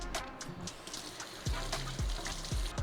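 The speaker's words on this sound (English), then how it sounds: "Cut them and rinse them." Running water from a tap splashes and trickles as cut leeks are rinsed under it, with occasional low bumps and knocks in a sink.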